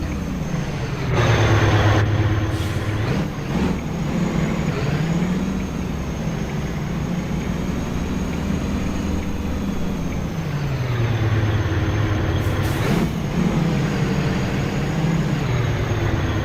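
A Kenworth K100 truck with a 480-horsepower engine in a driving video game, its loud engine tone rising and falling as it revs and shifts, heard alone without talk.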